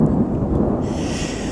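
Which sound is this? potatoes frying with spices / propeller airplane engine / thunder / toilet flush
thunder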